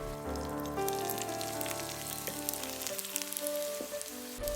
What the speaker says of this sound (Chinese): 锅烧热后倒入2勺花生油，依次放入卷好的饺子皮